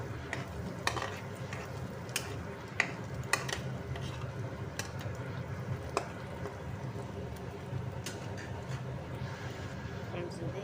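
An egg-and-rice dish without onions is stirred in a pan with a little oil, giving a soft continuous sizzle and scattered scrapes and taps of a spoon, with talk faintly over it.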